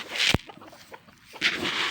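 Country chickens give short, close clucks in two brief bursts, broken by a sharp tap.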